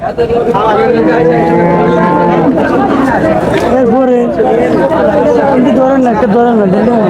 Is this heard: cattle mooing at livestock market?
yes